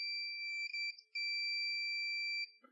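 A shrill 3-volt electronic buzzer module for a NodeMCU ESP8266 beeps twice with a steady high tone, a brief gap between the two long beeps, close and clear.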